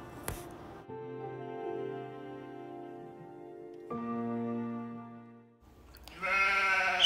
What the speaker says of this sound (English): Sheep and goat are mammals.